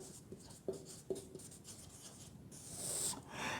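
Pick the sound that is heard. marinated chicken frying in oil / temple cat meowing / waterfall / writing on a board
writing on a board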